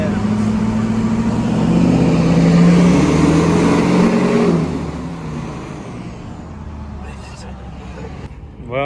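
Road traffic heard from inside a truck, a steady low engine drone and road rumble that swells, then eases off into quieter idling, with people talking over it.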